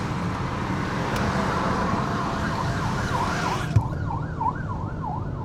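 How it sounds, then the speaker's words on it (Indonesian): Steady road and traffic rumble from inside a Chery C5 car, with a wailing emergency siren rising and falling in the distance and a brief knock partway through; no one speaks. "Ini suara jalanan."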